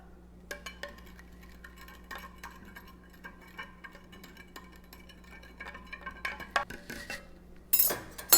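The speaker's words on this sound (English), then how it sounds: "Now let's stir it until the white stuff is gone." A metal spoon stirs sugar into a glass of water, giving sparse light clinks and ticks against the glass over a low steady hum, with a busier cluster of taps near the end.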